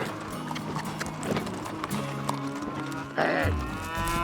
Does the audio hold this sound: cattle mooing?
yes